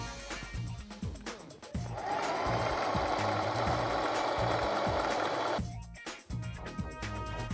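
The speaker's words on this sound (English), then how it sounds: "I'm gonna stitch this up and put it on me." A sewing machine stitching a bat-accented bodysuit runs in a steady, loud, continuous whir for several seconds, with brief mechanical clicks and handling noises before and after.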